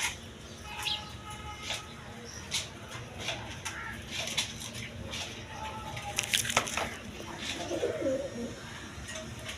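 Pigeons offered for sale, including a single female, cooing softly and repeatedly amid scattered rustles and taps, fairly faint and close, with a voice murmuring faintly underneath.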